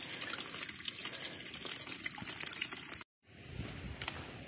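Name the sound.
water bag being filled at a low stream source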